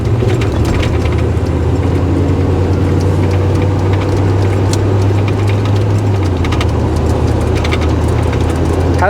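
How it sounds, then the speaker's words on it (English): A 1990 Chevrolet K1500 pickup with a stock-style exhaust runs steadily, its low, even engine drone heard from inside the cab, moderately loud with a faint rattle and no talking. "Has a stock style exhaust on it, so it's not too loud."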